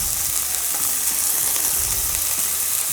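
Slices of trimmed pork fillet sear in hot vegetable oil, giving a steady, close, loud sizzle with faint stirring clatter and no talking.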